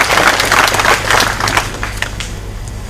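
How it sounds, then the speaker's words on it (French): A crowd applauds at a Mali Independence Day celebration, with dense, loud clapping throughout that thins out slightly toward the end. "Applaudissez sur vos acclamations, s'il vous plaît."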